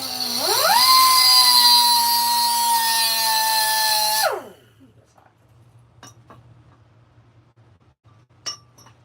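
A power tool cutting around a wood carving whines loud and steady for about four seconds, its pitch shifting slightly, then winds down and stops, leaving faint scattered clicks and a low hum.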